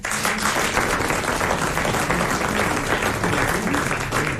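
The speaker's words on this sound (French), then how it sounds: "Madame Bordeaux a droit à vos applaudissements." A television game show audience applauds a woman who has just won 1000 francs, sustained, full clapping from a packed studio crowd that holds steady throughout.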